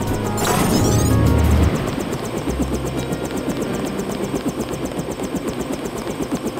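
Helicopter in the video game Deus Ex, its rotor thudding in a steady rapid chop with engine whine, loud and close, after a brief heavier burst at the start.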